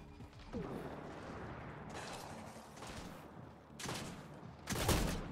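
Gunfire and impacts during a firefight in the video game Mass Effect Andromeda. Bursts of shots and crashing hits come amid a steady rumble of combat, growing louder toward the end.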